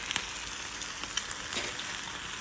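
An egg frying in a pan after being flipped, for an egg, cheese and turkey sausage sandwich: a soft, even sizzle with a few faint light ticks, fairly quiet and alone.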